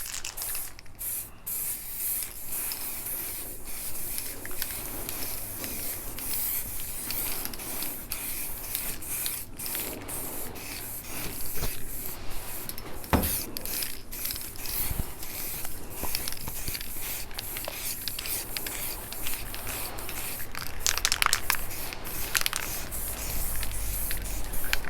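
Spray cans hiss in short and long bursts, painting the bumper of a Mini John Cooper Works F56 up close, with brief pauses and soft rubbing and handling noises between passes.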